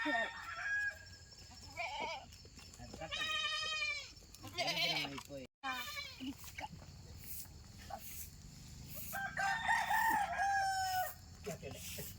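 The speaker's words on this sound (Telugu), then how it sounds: "లోన మళ్ళీ మూడు ఉన్నాయి మామ అవి మేకలు" Goats at a lonely house in a forest bleat in several short, wavering calls, with a rooster crowing nearby and people talking in between, all against quiet outdoor background.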